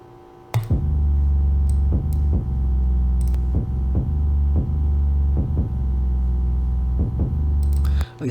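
Deep, booming bass notes hit in a steady repeating pattern, each one sustaining with a low rumble and no other instruments or voices.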